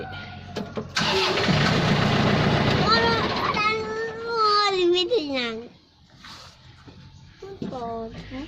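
Starter cranking on a Yanmar tractor engine that is hard to start, a loud churning burst that sputters and fades, while someone speaks and exclaims over it.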